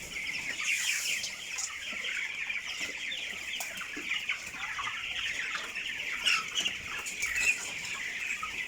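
A crowd of 21-day-old broiler chickens on a farm cluck and chirp continuously, a dense steady chatter of many birds at moderate distance, with a few louder calls standing out.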